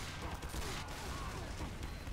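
Dense, continuous Team Fortress 2 gunfire, probably a minigun, roars steadily at even loudness for the whole stretch amid busy game noise.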